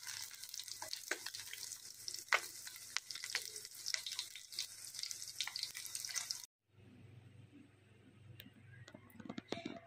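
Small river fish fry in a pan until golden, with a dense, close crackle and spitting oil for about six seconds, then a sudden drop to a quieter, fainter sizzle.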